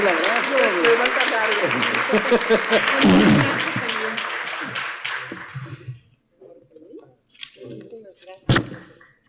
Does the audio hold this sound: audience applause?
yes